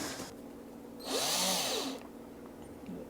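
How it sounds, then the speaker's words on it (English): A power drill whirs in one short burst of about a second aboard a boat being fitted with a diesel heater, rising and falling in pitch against a quiet background. "Alright, let's drill this."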